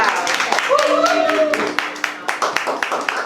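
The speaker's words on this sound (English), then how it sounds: "Alright, so give a round of applause." Small audience at a writing session clapping, a scattered burst of hand claps that thins into separate claps, near and moderately loud, with voices talking and exclaiming over it.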